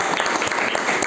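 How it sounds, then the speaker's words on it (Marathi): Audience at a motivational talk by a college principal breaks into steady, dense clapping that fills the whole moment at close range, with no voices over it. "त्या अभिनंदनासाठी मी तुमच्याकडून अपेक्षा टाळ्याच्या करतो आहे"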